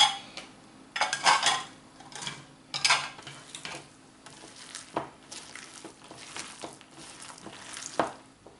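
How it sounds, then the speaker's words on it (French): Gyoza filling with cabbage and parsley is stirred in a bowl, giving intermittent wet squelching and scraping bursts with soft utensil clinks, close and fairly quiet. "On va commencer à mélanger tout ça."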